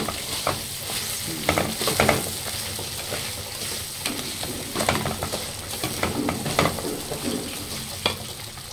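Rice being stirred in a pot during home cooking, a steady close scraping and rustling with light sizzling underneath and small clinks from the spoon throughout.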